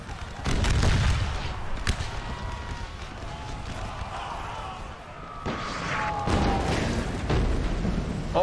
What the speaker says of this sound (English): Deadly artillery shell dropping in on these masses of Union infantry trying to get across